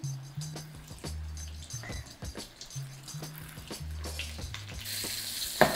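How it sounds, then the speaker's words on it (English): Shrimp deep frying in a wok for crispy pepper shrimp, a steady close sizzle of oil with light clinks and stirring, and background music throughout. "I'm just going to drop the shrimp in one at a time"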